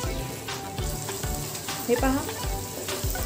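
Chicken sautéing in oil and butter for a butter chicken, a steady close sizzle with regular stirring scrapes and utensil clinks throughout, with brief talk near the middle.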